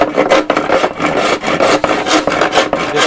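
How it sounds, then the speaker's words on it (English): A fresh crosscut saw rasps back and forth through plastic while removing the headlights of a 1997 Jeep Grand Cherokee ZJ, a close, loud, continuous run of rhythmic strokes with no talk. "This crosscut still is fresh, so it goes right through this plastic."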